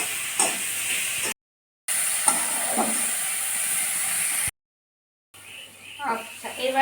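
Dried fish with pumpkin leaves fries in a pan, giving a steady hiss and sizzle in two stretches broken by short silences. Someone talks over the frying.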